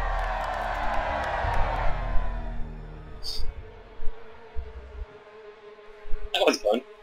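A crowd cheers and whoops in the video game Fable 3, with a broad swell of cheering early on, then quieter stretches broken by short bursts of shouting.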